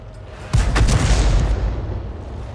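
A tank gun fires a penetrating shot in a video game: one loud, deep boom with a rumbling tail that fades slowly.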